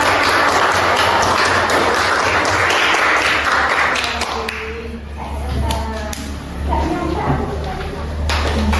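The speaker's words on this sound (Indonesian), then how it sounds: "beri tepuk tangan untuk kelompok kita" Children in a classroom clap for their group after a cooking activity, with brisk scattered applause for the first few seconds that fades into shuffling and taps. A low hum and chatter carry on afterward.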